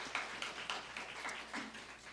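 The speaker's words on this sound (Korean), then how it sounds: "찬양의 영광의 박수를 올려드립시다." Congregation in a church applauding in praise, a steady, fairly quiet wash of many hands clapping with soft individual claps rising and falling throughout.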